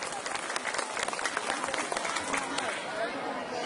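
Audience at a school student activity event applauding steadily, dense clapping throughout with a presenter's voice faintly mixed in and some crowd noise.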